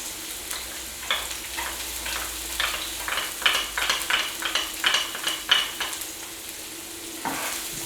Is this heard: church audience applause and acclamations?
no